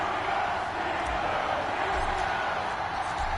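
A stadium crowd roars in an EA Sports Madden NFL game between the New England Patriots and Pittsburgh Steelers, a dense, continuous wall of cheering with occasional whoops, likely under commentary.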